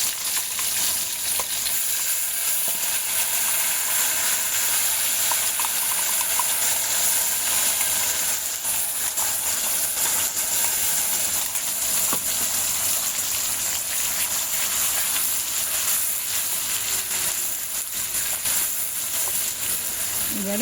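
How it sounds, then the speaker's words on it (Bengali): A paste of tomato, green chilli and spices fries in a pan for an egg malai curry, giving a steady, loud sizzle and hiss that continues unbroken throughout. "এবারে বেশ কিছুক্ষণ কষাতে হবে"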